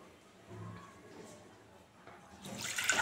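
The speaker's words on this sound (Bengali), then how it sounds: "কড়াইতে একটু জল দিয়ে দিলাম।" Water splashes into a wok on the stove while cooking cauliflower with Bombay duck fish, a quiet trickle that turns into a brighter, louder gush near the end.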